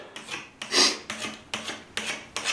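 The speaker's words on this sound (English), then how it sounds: "So now I'm planing from one end and one edge." A hand plane shaves a wooden board in repeated strokes, giving six close, crisp rasping passes with brief pauses between them and no talking.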